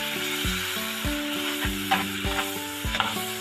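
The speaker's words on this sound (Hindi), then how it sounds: "अब इस मसाले को मैं अच्छी तरह से भून लेती हूँ" Tomato masala with chili, turmeric and salt being stirred and fried in a pan, a soft continuous sizzle broken by rhythmic scraping strokes of a spoon, close and alone under steady background music.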